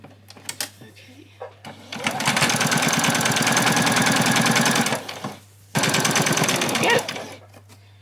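A sewing machine runs a long steady stitching burst along the bottom hem of a fabric apron skirt, pauses briefly, then stitches again; a voice speaks quietly before and after the stitching.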